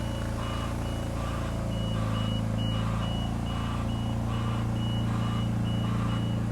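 A Niftylift HR21DE lift with an intermittent drive fault creeps along very slowly, a steady low motor drone under a regular high-pitched warning beep repeating at an even pace.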